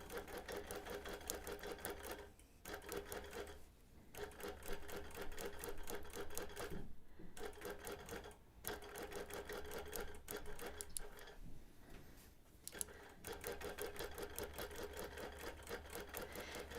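A sewing machine free motion quilting a Christmas table runner, its needle running in a steady rapid chatter that continues close and loud with a few brief pauses.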